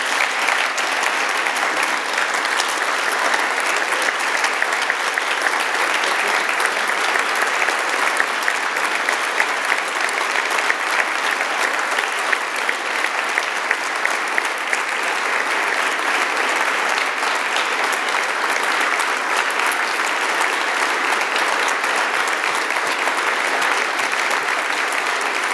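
An audience at a ceremony applauds steadily for about twenty-five seconds, a dense, even wash of many hands clapping, loud and close, with no speech over it.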